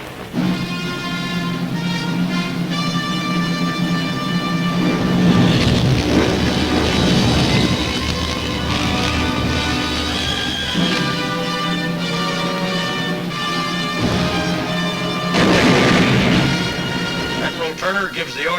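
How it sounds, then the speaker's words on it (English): A WWII film battle sequence on Iwo Jima with a mortar barrage firing, heavy continuous booming and rumbling blasts mixed with musical score, loud and dense throughout with a few swells. "The mortar barrage searches out hidden machine gun nests."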